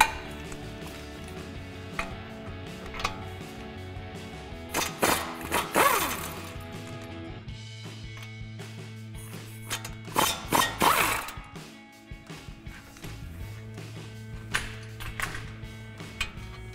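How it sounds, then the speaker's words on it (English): A 21 mm socket on a ratchet loosens the caliper mounting bracket bolts on a RAM 1500 during a leveling kit install, giving quiet clicking and metallic clacks with a couple of louder clattering bursts, close by and with no talk. "we'll go ahead and use our 21 mil socket and remove those two bolts"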